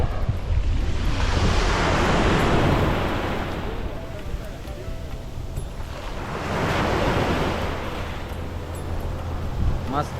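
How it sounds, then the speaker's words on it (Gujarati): Surf rolls in on Shivrajpur beach near Dwarka, with two broad swells of crashing wave wash rising and fading over steady wind rumble on the microphone. "મસ્ત સરસ મજાનો ગોવા ટાઈપનો બીચ છે."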